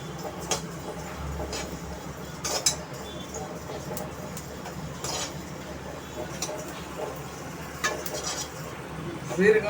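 Cumin seeds roasting in a dry pan while being stirred: soft rustling and light scraping with intermittent metallic clinks of the spoon against the pan, faint and close, with a low background hum.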